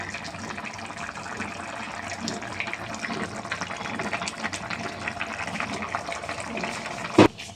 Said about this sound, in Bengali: আমি এখন আপনাদেরকে এই পনির তরকারিটা ঢেলে দেখাবো কতটা সুন্দর হয়েছে